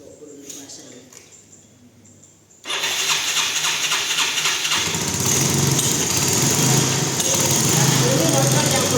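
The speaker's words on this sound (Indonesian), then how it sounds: "caranya kamu hidupkan motor" A Yamaha Mio scooter engine with electric ignition starts abruptly after a few seconds of quiet, then runs steadily and loudly, with a high buzzing whine and some voices faintly beneath.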